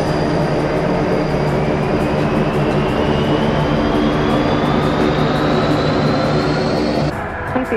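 Airplane taking off in the BeamNG.Drive video game: a loud, steady jet engine roar with a slowly rising whine that builds throughout, then drops away abruptly near the end, with no voices.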